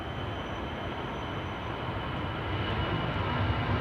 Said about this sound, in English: I do see that the Finnair A350 just now took to the sky.